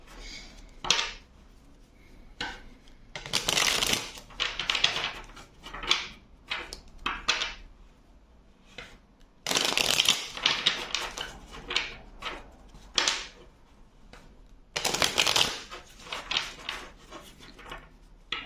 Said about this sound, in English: I think that I'm going to pull more cards with the tarot.